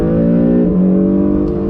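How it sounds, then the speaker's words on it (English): A 2017 Acura NSX all-wheel-drive sports car accelerates on throttle in automatic mode, its engine a steady loud drone with a clear pitch shift partway through as it gears up, heard from inside the cabin with no talk. "let me show you a little bit of acceleration that you're gonna expect from this all-wheel drive"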